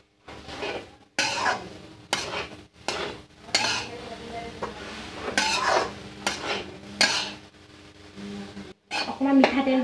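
Turmeric and salt being stirred in a pan while making a bamboo shoot pickle, heard as close, repeated scraping and clinking of a utensil against the pan in bursts separated by brief pauses, with no talk.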